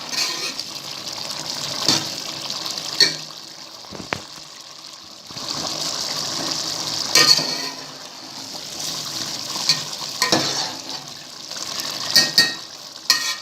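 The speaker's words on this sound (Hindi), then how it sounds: "हम इसमें चम्मच एहतियात से चलाएंगे" A spoon stirs matar pulao, rice cooked with peas as its water dries off, giving soft scraping and sizzling strokes at irregular intervals over a steady frying hiss.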